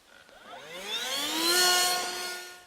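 A Victa leaf blower runs with a steady whining engine drone that rises and sweeps in pitch as the throttle is eased up and back off, close and fairly loud with no voices.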